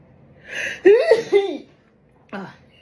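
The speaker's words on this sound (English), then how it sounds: "I need to sneeze." A single loud, close sneeze with a sharp inhale and burst, followed by a brief small exhale or sniff.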